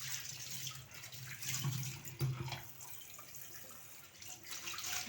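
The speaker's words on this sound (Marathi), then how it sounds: "अगोदर पाणी टाकून ओलं करून हे असं चांगलं धुवून घ्यायचं" Quiet splashing and trickling water with soft rubbing and knocks, a clay pot being rinsed and scrubbed by hand, surging and easing in waves.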